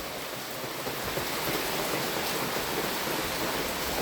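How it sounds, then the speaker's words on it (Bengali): Heavy continuous rain during a flood in Medinipur, a steady dense wash of broadband noise that stays loud and even throughout, with no voices. "বৃষ্টি কন্টিনিউ হয়েই যাচ্ছে"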